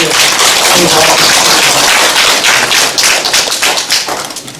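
A briefing audience claps in a dense burst of applause that stays loud and then tapers off toward the end, with no talk over it.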